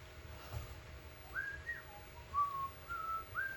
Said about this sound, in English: And please stop whistling.